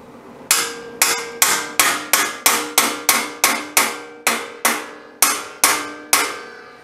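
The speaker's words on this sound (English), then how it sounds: "have a careful look here and you should be able to see how the round bar moves into place when I tap here." A hammer taps a steel round bar into place in a sheet metal jig, about fourteen sharp metallic strikes in an even rhythm, each ringing briefly before the next, loud and close with no talk.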